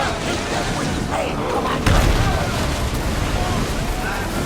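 Ship cannons fire in Assassin's Creed Odyssey, a dense, loud rumbling barrage with one heavier boom near the middle, under constant battle noise and shouting voices.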